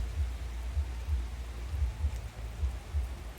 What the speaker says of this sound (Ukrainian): Дощ так і не перестав.